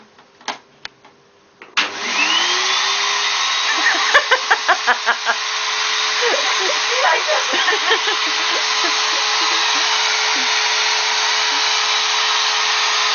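A vacuum cleaner switches on after a few clicks and runs steadily with a loud whooshing hum; brief voices and small knocks sound over it.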